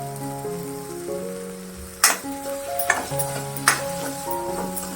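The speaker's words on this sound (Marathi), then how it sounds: "मसाल्याबरोबर ते भाजून घ्यायचंय, म्हणजे चव चांगली येते" Sprouted moth beans roast with masala in a pan, sizzling steadily while a spoon stirs and clacks against the pan a few times, with soft background music underneath.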